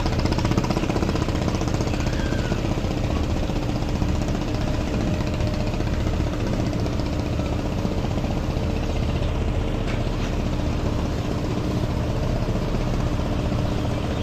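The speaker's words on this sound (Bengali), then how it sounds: "এক ইঞ্জিনের লঞ্চ এটা" A loud, steady single engine of a river launch drones and knocks without pause, a heavy rhythmic chugging filling the whole stretch with no voices.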